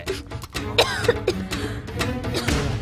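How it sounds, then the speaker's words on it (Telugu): A cough in a comedy film scene comes as a few short, rough bursts close by, followed by quieter throat noises against a light background. "దగ్గు వినిపించింది"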